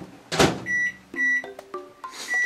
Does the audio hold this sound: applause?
no